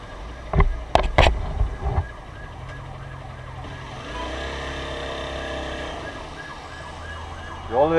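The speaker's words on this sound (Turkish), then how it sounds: "Oğlum ne çok ambulans var la bugün." Ambulance siren passing through traffic on a busy road, faint and wailing in the background after a few sharp knocks, with road and engine noise underneath.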